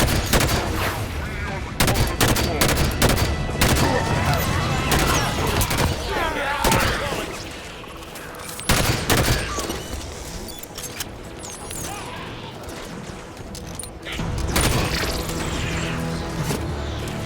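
Gunfire in the Halo 5: Guardians video game, dense bursts of rapid automatic shots and sharp impacts over a rumbling battle background, continuing with short pauses across the stretch.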